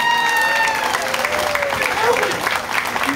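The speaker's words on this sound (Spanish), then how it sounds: "un aplauso para ustedes." A crowd at a Mexican radio station's 60th anniversary celebration breaks into sustained, loud applause with scattered cheers, while voices talk over it.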